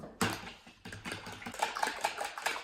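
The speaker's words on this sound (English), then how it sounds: "Let's get a fork and let's start mixing it together." A fork whisks an egg mixture in a bowl for an eggplant rollatini filling, making quick, steady scraping and tapping against the bowl's sides. It runs continuously and close up for a few seconds, with no talk over it.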